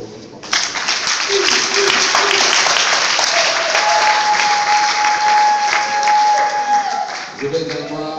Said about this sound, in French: je vais vous demander d'applaudir très fort pour votre maman